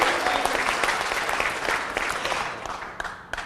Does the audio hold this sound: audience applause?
yes